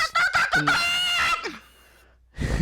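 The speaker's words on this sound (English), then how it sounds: "fucking roosters crowing every fucking morning" A rooster crows nearby on a morning, one long, loud, ringing call lasting over a second, then near silence before another sound starts abruptly at the end.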